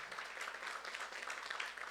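A church youth-group congregation claps together in steady, even applause, moderately quiet and continuous throughout with no voices on top.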